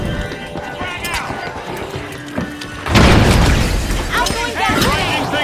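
A frag grenade goes off in The Finals, a loud broadband blast arriving about three seconds in over busy game sounds, followed by a sustained roar with scattered chirping effects; speech-like game audio runs beneath.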